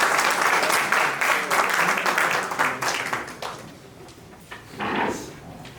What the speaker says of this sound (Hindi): आपकी जोरदार तालियों के साथ उनका स्वागत है।